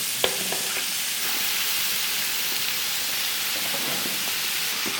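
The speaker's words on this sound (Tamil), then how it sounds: "எல்லாம் நன்கு சேர்ந்து நல்ல சுருளை வதக்கணும்." Carrot, beans, peas and cauliflower sauté with ginger garlic paste in a hot pan, a steady broad sizzle with light scraping stirs, close and continuous.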